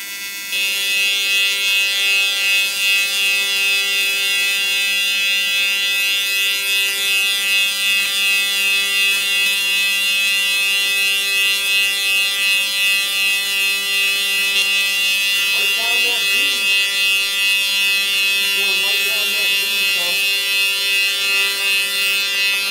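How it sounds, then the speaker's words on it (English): Steady, loud buzzing hum of a Weldpro TIG 200 welding arc on aluminum, continuous and close throughout with a rich harmonic drone and faint background sounds. "manipulate this tungsten between one piece and the other to shift that arc to make sure you're getting adequate penetration"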